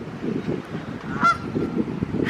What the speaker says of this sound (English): that goose over there, he's not too happy, or he is happy.